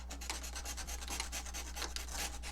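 A rasping, rhythmic rubbing of an abrasive tool beveling a 45-degree edge while building an X-41 Deltastorm, quick repeated strokes, close and quiet over a low steady hum.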